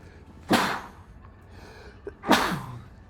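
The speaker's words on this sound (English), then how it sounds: "I need to sneeze." Two sharp, loud sneezes about two seconds apart from a person at a desk during a live coding stream, each a sudden broadband burst that quickly fades, with a faint breath between them.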